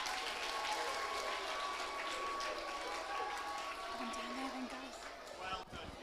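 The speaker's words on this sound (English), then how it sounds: "can we have a big round of applause to everyone on stage?" Applause at an Eisteddfod for children on stage, loose clapping from the audience with voices and some movement, fading toward the end.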